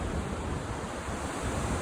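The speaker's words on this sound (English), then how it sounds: "Check out that river." Rushing river water below the historic Monroe Street Bridge in Spokane, a steady broadband roar of flowing current with a windy edge, continuous and loud throughout with no talking.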